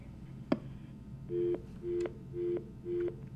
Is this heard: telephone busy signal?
yes